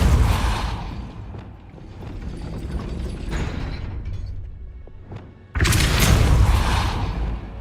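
Depulso spell cast in the video game Hogwarts Legacy while exploring hidden Hogwarts dungeons, a rumbling, grinding mechanical whoosh with ratcheting clanks, ending in a loud booming blast.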